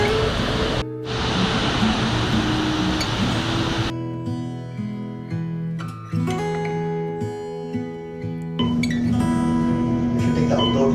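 Waterfalls at a Maui beach resort rush as a dense, loud broadband roar for about three seconds, then fade under tonal music that carries on for the rest.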